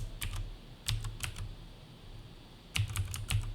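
Computer keyboard typing in bursts of quick key clicks, close and fairly quiet, with pauses between the clusters and no talking.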